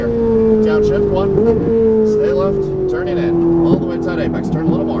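Ferrari 458 on the Las Vegas Motor Speedway track, its engine note held high then easing down through a long pull with brief shifts, heard close under an instructor's continuous coaching.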